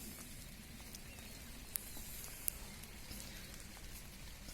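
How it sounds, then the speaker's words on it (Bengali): Rain falling outdoors during a jujube harvest on an orchard, a faint steady patter with soft scattered drops and a couple of sharp ticks, quiet and distant. "একদম আকাশ অন্ধকার করে আছে, বৃষ্টি পড়ছে"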